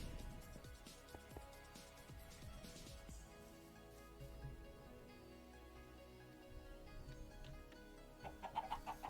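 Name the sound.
chickens clucking in Minecraft video game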